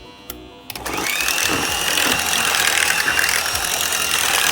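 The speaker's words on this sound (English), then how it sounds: "you use the same whipper or mixer to mix it out" An electric mixer whips eggs, butter and sugar for a Jamaican Christmas fruit cake. After a few quiet clicks its steady whirring motor starts at about one second and runs loud and continuous to the end.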